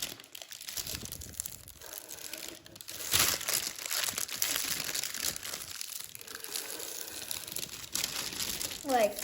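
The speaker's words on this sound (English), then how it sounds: "we're just gonna take this mountain fold and fold it down" Paper is pre-creased for Satoshi Kamiya's Ryujin 3.5 origami dragon, crinkling and rustling up close as a mountain fold is pressed down, with crisp crackles and a final sharp crease.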